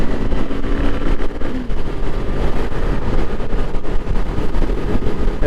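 Kawasaki Eliminator motorcycle accelerating in sixth gear at highway speed, a steady engine drone buried under heavy rushing wind noise, loud and continuous.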